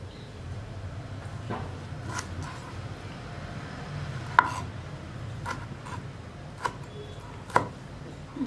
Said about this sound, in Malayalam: ഈ ഒരു കനത്തിലാണ് ഞാൻ തക്കാളി കട്ട് ചെയ്തെടുക്കുന്നത്